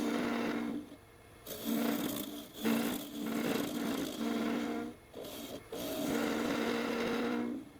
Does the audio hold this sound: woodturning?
yes